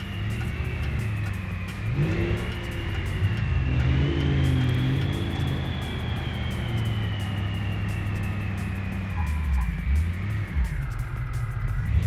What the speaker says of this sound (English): the turbo on this thing sounds nuts